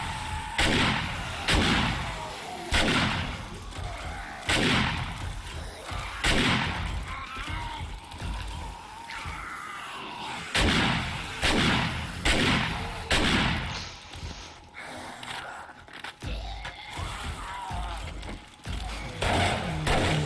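Rapid bursts of gunfire from AP rounds in the zombie survival game 7 Days to Die, loud booming shots repeating in irregular clusters, each with a heavy thump, steady through the whole stretch.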